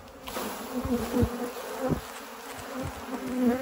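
Many honeybees buzz nearby in a dense, wavering drone as a hive is shaken, foraging bees swelling louder as they fly close past.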